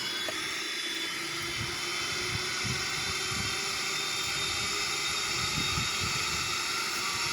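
A Boeing 777-300ER jet drones steadily on final approach to land at Zurich in a flight simulator game, a constant, fairly quiet engine roar with soft low rumbles and no speech.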